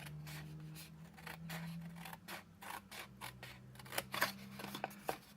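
Scissors cut paper for a Stampin' Up Christmas box, giving a quiet series of short, crisp snips and scrapes in uneven rhythm, close up, over a faint low hum.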